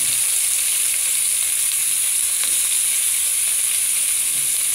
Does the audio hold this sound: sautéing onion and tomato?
yes